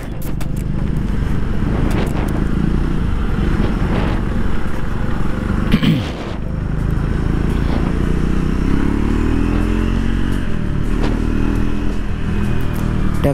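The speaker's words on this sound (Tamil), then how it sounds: "நல்ல ஒரு peppy engine, instant பிக்அப்புக்கெல்லாம் no problem" Engine of a Triumph 400X adventure motorcycle while riding, a steady low drone with wind rush and rolling road noise, a brief clatter midway and a rising rev toward the end.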